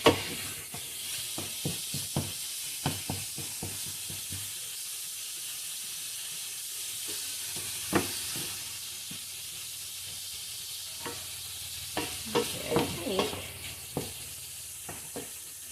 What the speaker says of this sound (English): Turn my heat down just so it's sizzling.